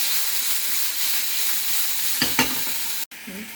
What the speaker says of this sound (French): on va attaquer dans la poêle bien chaude par faire revenir nos lardons